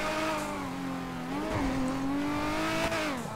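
Convertible supercar engine in GTA 5 revving continuously at close range, its pitch rising and falling in smooth sweeps, with tire and racing-car character and no talk over it.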